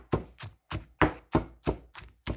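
A knife chops onion and chilli on a cutting board for a Thai grilled eggplant salad, eight crisp, close chops in a steady, even rhythm.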